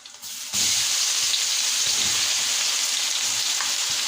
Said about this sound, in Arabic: دلوقتي كده على طول بقى هنزل بالبصله